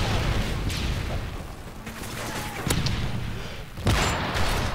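Gunfire in Modern Warfare 3, with bursts of shots and booms over a dense, noisy game soundscape, with a voice talking over parts of it.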